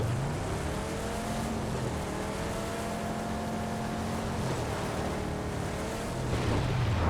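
Engine of a car driven in the PUBG video game, a steady loud droning hum with a shifting whine that runs unbroken through the whole stretch, swelling slightly near the end, with no voices over it.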